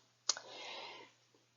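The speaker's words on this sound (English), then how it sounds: "I'm doing it at the same time as you, just so you know, in case you can hear my clicking" A calculator key gives one sharp, close click, followed by a faint soft rustle and a tiny second tap, quiet and brief with no voices.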